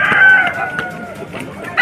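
A rooster at a cockfighting bazaar in Kanker, Bastar, Chhattisgarh gives a loud, close, strained crow, followed by scattered clucks and bustling market noise, with people's voices faintly mixed in.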